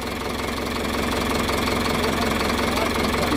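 A Sonalika DI 55 four-cylinder tractor engine runs steadily up close, giving a dense, even knocking rumble with no pauses and no other sounds.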